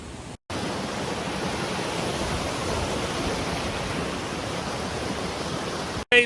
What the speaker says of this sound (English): it's kind of this beautiful waterfall behind me